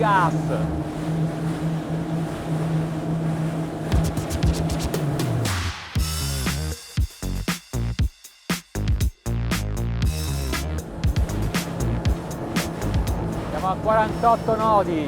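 Engines of a Ranieri Cayman 45.0 Cruiser maxi rib throttling up, a loud motor roar rising in pitch amid rushing water, wind buffeting and hull slaps, with someone talking over it.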